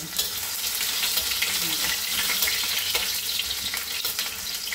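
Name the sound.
ginger frying in a pan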